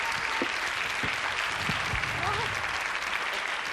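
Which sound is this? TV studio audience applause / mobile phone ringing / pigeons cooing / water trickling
TV studio audience applause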